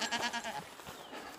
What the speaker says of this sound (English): So today, finally, out with the goats.